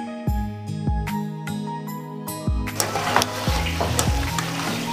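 Namak pare frying in hot oil, a dense steady sizzle that swells and then continues loudly, with earlier soft thumps and tonal background music.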